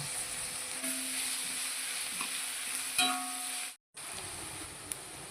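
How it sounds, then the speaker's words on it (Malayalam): Onions with salt frying in a pan, making a constant, close sizzle with a light stirring clink, a brief break in the sound, and no voices. "സവാള വേഗം വാടാൻ വേണ്ടിയിട്ട് ഇത്തിരി ഉപ്പിട്ട് കൊടുക്കണ്ട കേട്ടോ."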